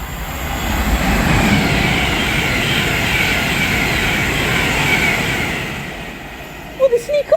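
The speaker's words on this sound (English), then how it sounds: "Oh, look, a train." A passing train rumbles past in a steady, loud broadband roar for about six seconds, heard from aboard a train on the Tamworth to Blackpool North route, then fades and gives way to a few sharp clicks.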